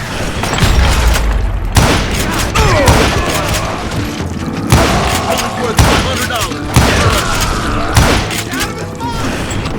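Dense video-game gunfire from a Call of Juarez: Gunslinger shootout, with loud rapid shots and booming impacts crowding one another in continuous bursts, close and forceful, while voices talk over it.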